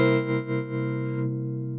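Clean electric guitar chord from a Line 6 Variax 600 modeling guitar set to emulate a Telecaster, ringing out with sustained harmonics that fade slightly after about a second, alone with no talking.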